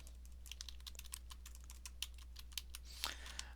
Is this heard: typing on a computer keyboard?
yes